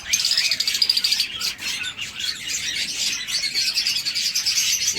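Fischer's lovebird in a mixed aviary of colourful birds, giving continuous high, shrill chirps and chattering calls with other birds twittering around, steady and fairly close.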